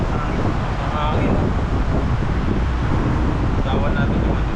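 Strong, cold wind batters an outdoor microphone with a constant low roar and rumble, and faint voices and other sounds come through beneath it.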